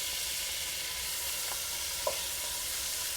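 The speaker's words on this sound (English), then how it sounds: "first thing we're going to do is we're going to add the bone marrow" Bone marrow fries in olive oil in a pan for risotto Milanese, a faint, steady, hissing sizzle heard alone with a couple of small pops and no talking.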